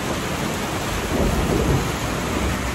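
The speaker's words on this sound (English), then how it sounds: "Look at how hard it's raining. And rare lightning." A heavy thunderstorm in Southern California, with loud rain pouring down in a dense steady roar and deep thunder rumbling underneath, close and continuous.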